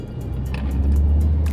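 A Kia Seltos engine with a check engine light fault runs at high RPM while the car picks up speed, giving a steady low droning hum heard from inside the cabin, with no talk.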